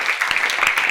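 An audience applauds at a conference talk, a dense, steady patter of many hands clapping close, with no break over the short stretch.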